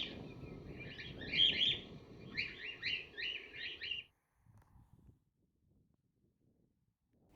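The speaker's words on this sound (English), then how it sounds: "This was certainly the favourite watering hole for cockatoos, common across much of inland Australia, but always near water" Cockatoos call at an inland Australian watering hole, a run of loud, harsh screeching calls close by for about four seconds, then near silence with only faint distant sounds.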